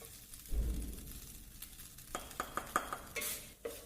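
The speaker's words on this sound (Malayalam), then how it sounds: "ചോറ് ചേർത്ത് നന്നായിട്ട് ഇളക്കി കൊടുക്കുക" Cooked rice stirred in a hot pan for butter garlic fried rice, a soft scrape and sizzle followed by a series of light spatula clicks and taps against the pan, close and fairly quiet.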